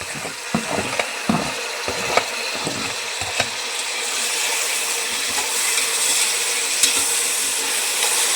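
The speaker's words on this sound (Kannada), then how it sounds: "ಈ ಟೈಮಲ್ಲಿ ಟೊಮೊಟೊ ಹಾಕ್ತಾಯಿದ್ದೀನಿ" Tomatoes drop into hot oil for a ration-rice tomato bath with avarekalu, setting off a steady sizzle that builds and holds, with scattered clinks of a spoon stirring against the pan.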